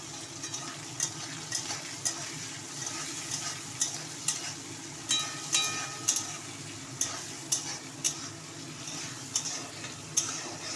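Onion and garlic frying in hot oil with panch phoron and dried red chili in a wok, a continuous sizzle broken by regular scrapes and taps of a stirring spoon, close and fairly loud.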